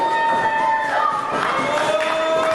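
A wrestling arena crowd in Flint, Michigan cheers and roars steadily, with a continuous dense wash of voices and a few scattered shouts carrying across the whole stretch.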